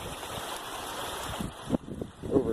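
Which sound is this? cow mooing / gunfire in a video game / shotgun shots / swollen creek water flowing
swollen creek water flowing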